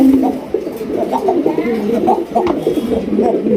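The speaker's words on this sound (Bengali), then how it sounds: "একজোড়া বোম্বাই কবুতর ডাকের কি কি স্টাইল দেখেন" A pair of red Bombay pigeons coo in repeated throaty pulses, loud and close, with more birds murmuring in a busy loft behind them.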